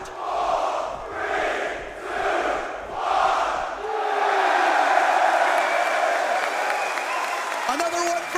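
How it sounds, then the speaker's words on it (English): An esports arena crowd at a Counter-Strike-style major match between FURIA and Team Liquid voices its displeasure in loud rolling swells of booing and shouting, several waves rising and falling before settling into a sustained roar. "The crowd showing their displeasure."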